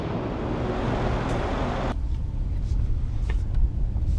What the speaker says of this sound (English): So let's drive the new S63 and see how this big tank feels on the road.